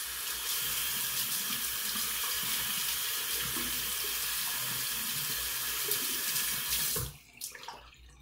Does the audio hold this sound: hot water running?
yes